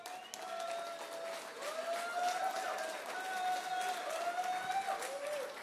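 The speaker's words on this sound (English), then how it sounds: "Please welcome on stage. Applause," An audience applauds to welcome a speaker on stage, producing a steady wash of clapping with faint tonal sounds running underneath.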